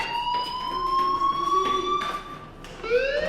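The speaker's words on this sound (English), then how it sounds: "do you hear that fire alarm?" A loud electronic fire alarm in the video game Life Is Strange wails continuously, its piercing tone sliding and repeating in close, harsh cycles.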